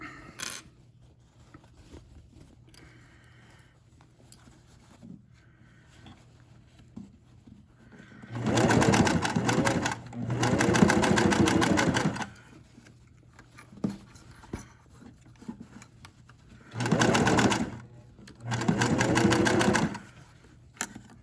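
A sewing machine stitches a cinch bag in several loud bursts of rapid, whirring needle strokes, separated by quiet pauses of handling fabric, with a brief voice murmuring at the start.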